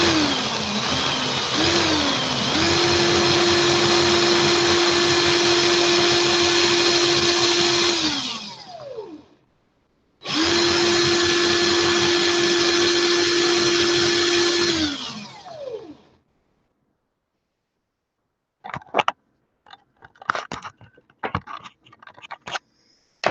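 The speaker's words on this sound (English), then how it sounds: "I'm pulling the drill away from the swivel so it's nice and tight." Power drill twisting wire for a coil: a loud steady motor whir runs for about eight seconds, stops briefly, runs again for several seconds and winds down, followed by scattered clicks and handling noises.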